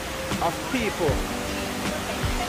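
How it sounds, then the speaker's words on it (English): Steady rushing water from a waterfall pool at the 9/11 memorial at Ground Zero, a constant broadband wash in the open air with people talking over it nearby. "And this is the second waterfall freestyle."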